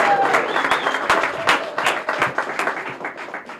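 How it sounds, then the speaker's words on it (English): Audience applause fills a ribbon cutting ceremony at a health center, with dense, steady clapping from a sizable crowd carrying on throughout and scattered sharper claps standing out near the front. "how about a big round of applause for Mr. Michael Walsh?"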